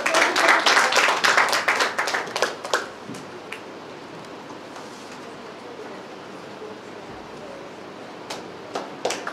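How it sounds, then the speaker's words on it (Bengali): A crowd at an award reception ceremony claps in a loud burst of applause that fades within a few seconds, leaving a quiet hall broken by a few stray claps near the end. "এটা জোরে হাততালি হবে।"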